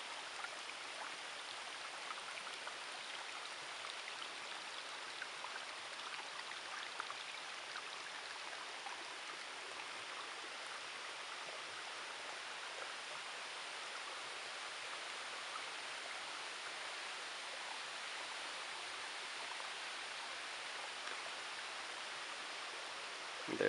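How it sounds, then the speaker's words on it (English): A freshly flowing creek in a formerly dry bed after heavy rain rushes steadily, a dense, even wash of water noise close by that holds unchanged throughout, with no talking. "It's now a running creek."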